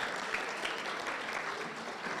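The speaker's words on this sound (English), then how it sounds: "another round of applause, please." Audience applause at the 12th Annual WOBN women's business conference, a dense, even wash of many hands clapping that stays loud and steady throughout without fading.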